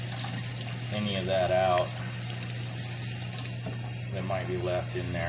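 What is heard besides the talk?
hot tap water flushing an oil filter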